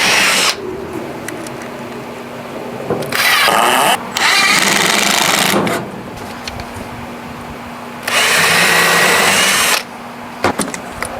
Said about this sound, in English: Drill some pre-drill holes